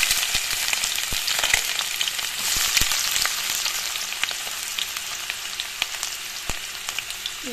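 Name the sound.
onions frying in hot oil for fish curry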